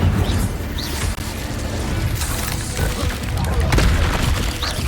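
Fire spell cast in Hogwarts Legacy, a dense rumbling burst of flame with booming, crackling impact layered over continuous game effects and background noise.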